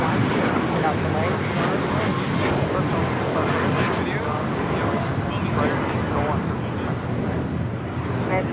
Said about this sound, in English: That was United Airlines Flight 2069 heading to Houston, Texas on the 737 MAX 9.